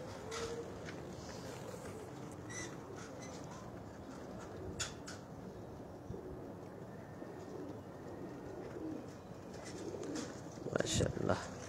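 Pigeons coo softly at a pigeon show, faint murmuring calls set against steady outdoor background noise, with a voice talking nearby and a brief louder clatter near the end.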